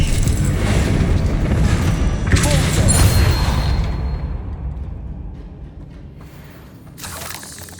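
An Incendio fire spell cast in Hogwarts Legacy inside a catacomb erupts as a loud rumbling boom with crackling fire, then dies away into near quiet before a brief final flare.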